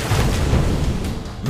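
A grenade blast in the Halo video game: a dense, loud low rumble that holds steady for about a second and a half, with no clear sharp onset.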